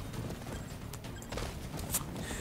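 Hooves clip-clop in quick rhythm as a horse gallops in the Attack on Titan video game, moderately quiet under a busy background of wind and mechanical game noise.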